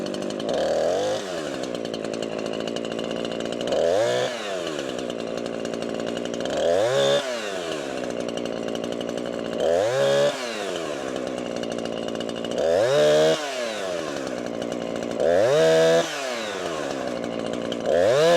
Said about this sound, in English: Try to get some heat in the saw.